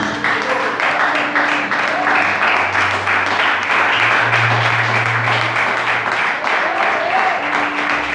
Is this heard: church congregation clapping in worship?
yes